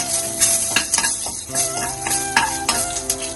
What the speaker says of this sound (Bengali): ডালটা ফোড়ন দিয়ে দিই